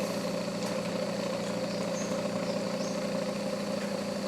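A small coil-driven SSG motor runs with a continuous, even electrical whir and faint mechanical hum, steady and fairly quiet at close range, with no voices over it.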